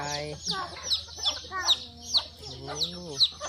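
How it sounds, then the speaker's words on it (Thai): Young chicks at a backyard chicken coop give repeated high, rapid cheeps in steady bursts, while a voice talks softly among them. "ไก่น้อย ไก่น้อยหิวข้าวไหมเนี่ย"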